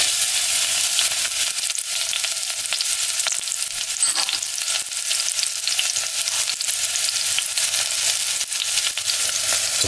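Fresh garlic fries in a pan with a loud, continuous bright sizzle, close up and steady throughout with a light stirring texture and no voices.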